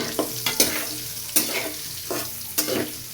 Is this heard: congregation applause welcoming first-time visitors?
no